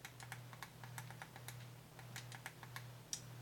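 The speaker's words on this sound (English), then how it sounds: "Just by the way that they are clicking, that's what it sounds like to me." Tactile surface-mount buttons on a retro handheld game console being pressed, a quick series of light, crisp clicks, fairly faint over a low steady hum, with no speech.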